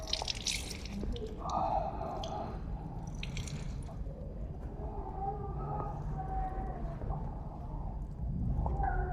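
A wet cloth being wrung out by hand, with squishing and trickling water running steadily under low background noise.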